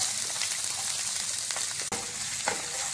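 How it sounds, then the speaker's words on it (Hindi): Onion, cashew, ginger, garlic and green chili fry in refined oil for a fish curry, giving a steady, close, unbroken sizzle with no talking. "हरा मिर्च को हल्का सा भून लेंगे।"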